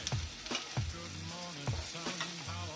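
Tomatoes and capsicum stirred in butter in a pan, a steady sizzle broken by regular scraping strokes of the spoon, close and fairly soft.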